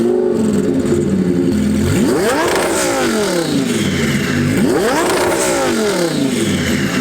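Twin turbo Lamborghini engine and exhaust revving in two big sweeping surges, the note rising and falling each time, very loud and close with a harsh rasping edge.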